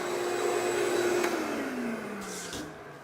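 A shop vac runs steadily close by with a loud, constant whine and roar, its pitch sliding gradually lower as it winds down near the end.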